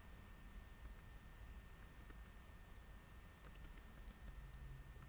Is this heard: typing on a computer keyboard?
yes